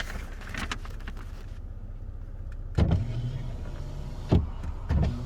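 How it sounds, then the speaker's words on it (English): Power rear sliding window on a 2019 Toyota Tacoma TRD 4x4 pickup running open and then shut inside the cab, with a steady motor whir and a few short thumps as it reaches its stops, no talking. "And the window opens and closes quickly."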